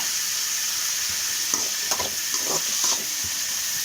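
Ground dried chilli paste stirred in a hot pan for chicken soup, a steady bright sizzle with a few soft scraping stirs breaking through near the middle.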